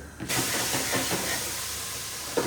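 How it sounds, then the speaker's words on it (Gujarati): Mustard seeds crackle in hot oil during tempering for a home-cooked dish, heard as a steady broadband hiss with faint scattered pops, close and continuous. "હવે એમાં આપણે રાઈ નાખશું, ચટકવા દઈશું."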